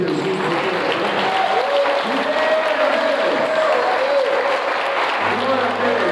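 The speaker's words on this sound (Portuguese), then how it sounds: "aplauda o Senhor Jesus." A church congregation applauding during a Portuguese-language service, loud dense clapping throughout while a voice speaks over it.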